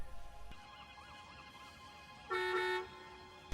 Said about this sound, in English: did the bus honk at him to hurry up?